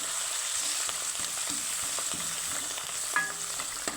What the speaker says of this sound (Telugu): కరివేపాకు, ఉప్పు, పసుపు, కొత్తిమీర వేసి కొంచెం సేపు కలపాలి.